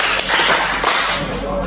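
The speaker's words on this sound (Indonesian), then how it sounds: "Tepuk satu, tepuk dua, tepuk tiga," A group claps together in an ice-breaking exercise during a counseling session, giving a few brisk, fairly loud, roomy claps over a steady background wash.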